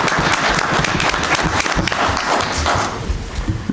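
Sustained applause from an audience at a town select board meeting, honoring committee members; dense, steady clapping fills the room for several seconds without a break.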